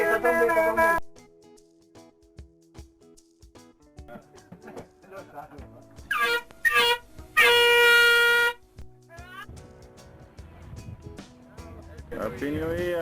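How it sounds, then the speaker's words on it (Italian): Small party horns blown at New Year's midnight aboard a sailing yacht off Bequia, with a few honking blasts including one long loud burst, among excited voices and cheering. "Trombetta, trombetta, trombetta."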